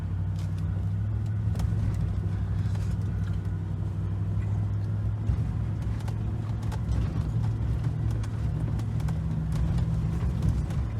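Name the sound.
2019 Silverado 1500 driving off-road in first gear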